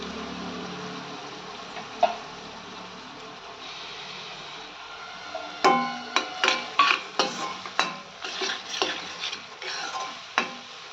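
Chopped capsicum added to onions frying in a pan for pav bhaji, a spatula clattering and stirring in a quick series of close scrapes and knocks over a quiet sizzle.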